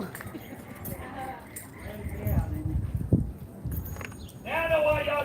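Hooves clip-clop in an uneven walking rhythm in Oatman, Arizona, a mid-distance clatter partly masked by people talking over it.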